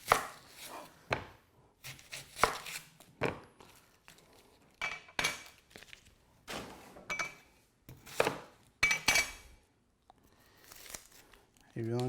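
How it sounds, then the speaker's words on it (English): Knife chopping onions on a cutting board in a home kitchen, a run of sharp, uneven chops in short bursts with pauses, close and fairly loud, while a person talks between cuts. "You chop your onions."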